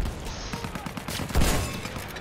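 Gunfire rattles in a Battlefield 1 battle, a rapid burst of repeated shots in a steady rhythm, loud and fairly close, with a heavier thump near the end.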